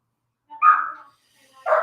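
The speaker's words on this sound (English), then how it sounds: "And we got the dog next door." A dog next door gives two short barks or yips about a second apart, clear and fairly loud against silence, with no talking.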